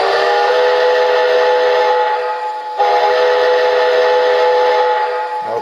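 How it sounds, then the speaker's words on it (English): A Lionel Legacy model train's steam whistle, on a Reading & Northern Pacific locomotive, blows in one long, sustained chordal tone, briefly dipping midway before sounding again strongly to the end. "let me just show you the whistle"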